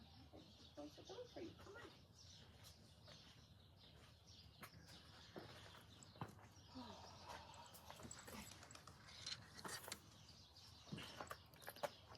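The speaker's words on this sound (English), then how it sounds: "I hear my dog trying to get out" A dog indoors trying to get out, heard as faint whimpers, scratching and small yips scattered across a quiet, noisy room, with light clattering and no speech.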